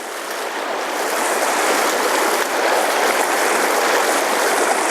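Rock Creek rushes steadily past a creek crossing, a close, loud, unbroken wash of flowing water with no voices over it.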